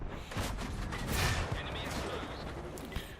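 Gunfire in a tank video game, with a shot from an Absolution tank glancing off the hull, heard as dense overlapping bursts and a broad crack near the middle amid steady engine rumble.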